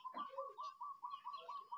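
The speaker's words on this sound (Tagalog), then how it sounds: "Ayan, may ibon dun." A bird in the Bohol highlands repeats a short clear call about four times per second in a quiet setting, with a few softer calls in between.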